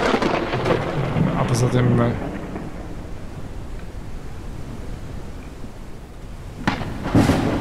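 Thunderstorm in the video game Forever Skies: a heavy thunder rumble with rain noise under a voice, then a steady rain hiss and another crack of thunder near the end.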